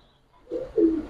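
A pigeon of the Pakistani breed held in the hand gives two low, close cooing calls that swell in after a brief near-silent start, the second one louder.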